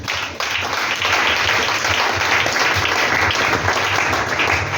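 A church congregation breaks into sustained applause, loud and dense clapping that swells quickly and carries steadily without pause.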